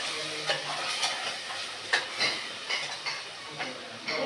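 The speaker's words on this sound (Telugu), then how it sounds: "ఇది మళ్ళీ బాగా వేగాల" Mushroom curry with yogurt, chilli powder, turmeric and salt sizzles and fries in a pan, with steady crackling and repeated sharp scrapes of stirring throughout.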